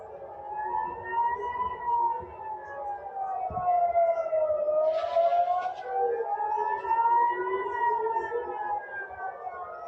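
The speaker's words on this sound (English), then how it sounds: "The sirens were going off earlier." Air raid sirens over Tel Aviv wail in slow rising and falling sweeps, steady and fairly loud across a distance, with no voices over them.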